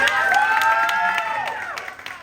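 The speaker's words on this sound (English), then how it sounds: "you can clap for that" Reunion audience clapping and cheering, with sustained whoops and shouts over scattered claps that fade toward the end.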